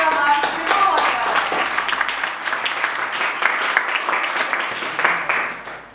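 Audience clapping at a New Year celebration event, a brisk run of claps from a gathered group, fairly close and steady throughout with light voices mixed in.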